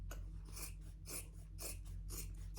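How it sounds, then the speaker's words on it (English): Scissors snip small cross cuts into the fabric corners of a sewn clutch, close to the stitching: four quick, crisp cuts in an even rhythm, close up and on their own with no talking. "And then on those corners, I just did a little cross cut."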